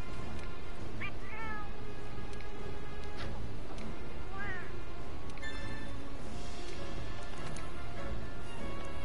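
Cat meowing in the video game Monster Hunter World: Iceborne, several short rising and falling meows over a busy, steady game soundscape with rumbling background.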